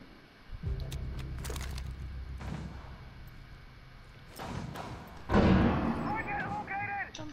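In a multiplayer video game, an explosive goes off on a door: a deep boom near the start, sharp bursts and a loud blast later, set among game effects and tonal sounds.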